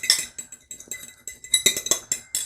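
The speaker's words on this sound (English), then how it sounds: "So we're going to put our sugar in here." Brown sugar and raw sugar being tipped into a mixing bowl for a strawberry-rhubarb pie, heard as a run of bright, close clinks and taps of a utensil against the bowl in irregular bursts.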